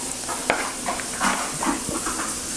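Vegetable oil heats in a frying pan while cooking a traditional German meal, a close continuous sizzle with scraping stir sounds and small clinks throughout.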